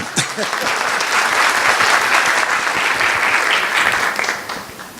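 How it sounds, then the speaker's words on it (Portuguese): A lecture audience bursts into sustained applause, a loud, dense roar of clapping with a few shouts that holds steady before easing off at the end. "Merece mais palmas"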